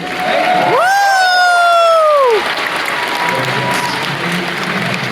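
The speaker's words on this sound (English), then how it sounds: "can we get a round of applause for these guys, too?" A convention audience at a furry convention opening ceremony applauds and cheers, with a loud whooping or whistling cry rising over the crowd early on before steady clapping continues.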